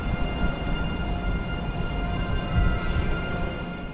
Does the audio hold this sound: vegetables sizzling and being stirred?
no